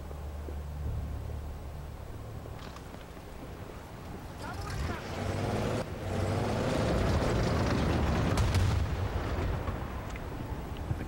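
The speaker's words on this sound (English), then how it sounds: "I guess I blew up the snipers up there" An explosion in Bad Company 2 blows up snipers in a rough, wind-buffeted battlefield, swelling into a loud rumbling roar around the middle and lingering as low booming, with a voice talking over it.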